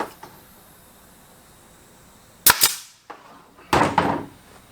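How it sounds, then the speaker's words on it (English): Two sharp staple-gun shots fastening a seat cover onto a CR500 dirt bike seat, each a loud close snap with a brief decay, about a second apart after a quiet stretch. "find the center of your seat, right where you want the center to be, and you put one staple"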